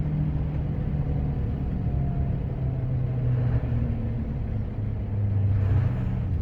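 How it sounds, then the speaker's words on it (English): Steady road traffic rumbling past the cab of a Scania R560 gravel truck in the middle of the day, a continuous close engine and tyre drone with passing vehicles swelling briefly, no talking. "Lots of traffic, even though it's middle of the day"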